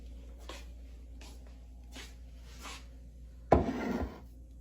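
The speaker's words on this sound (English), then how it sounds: "Sanding." Several soft rasping strokes of sanding, evenly spaced, followed by a louder scraping burst near the end over a low hum.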